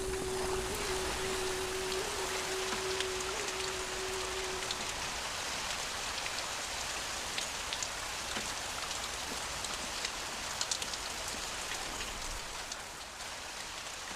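Steady, dense rain falls with an even hiss that continues without a break, heard alone with no voices, in a drama about the Prophet Yusuf.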